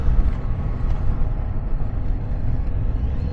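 A Kawasaki Z900RS motorcycle at full throttle on a warm sunny day, the engine a steady, loud low roar sustained throughout with wind rush and no talk.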